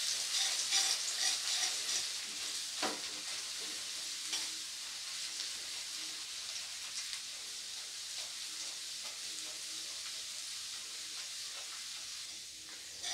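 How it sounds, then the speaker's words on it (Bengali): Chopped garlic and ginger sizzle steadily in hot oil in a pan for a dhaba-style egg tadka, a continuous bright frying hiss with occasional soft stirring scrapes and no talk. "রসুনটাকেও কিছুক্ষণ ভেজে নেব।"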